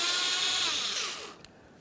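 A power screwdriver or drill spins out Phillips head screws from the upper bumper grille of a 2010-2013 Kia Forte Koup, a steady close whirring that winds down and ends with a small click.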